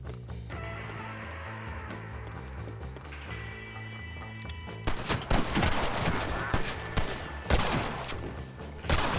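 Rifle fire in Red Dead Redemption: after a stretch of quieter game ambience, a rapid volley of sharp gunshots breaks out, loud and dense, with repeated cracks continuing to the end.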